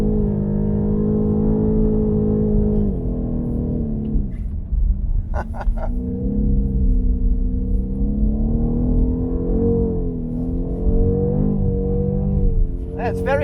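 A 530 hp BMW M850i xDrive Coupé with an automatic paddle-shift gearbox drives hard, its engine holding a steady, loud drone whose pitch sags and climbs, with a few brief clicks mixed in.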